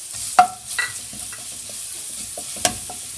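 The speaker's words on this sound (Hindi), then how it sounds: "बस इसको हल्का सा सोते करेंगे हम" Chopped garlic sautés in a small amount of oil, giving a soft, steady sizzle broken by a few sharp clinks and scrapes of a spoon stirring the pan.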